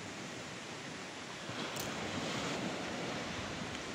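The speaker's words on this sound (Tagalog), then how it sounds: "Lakas ng alon guys." Steady, roaring surf of strong waves at high tide driven by monsoon wind, broadband and unbroken, swelling slightly louder midway, with wind noise mixed in and no voices.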